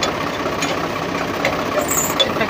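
Steady diesel engine of a 2015 Al-Ghazi tractor running continuously close by, a low broadband rumble with faint clanks on top and no talk.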